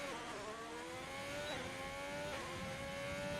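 F1 2020 racing game car at the Austrian Grand Prix, a close high-pitched engine whine rising through the gears, with brief dips where it brakes and shifts before powering out again, continuous and loud.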